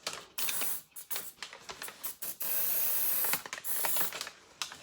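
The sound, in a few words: penetrating oil aerosol spraying on a nut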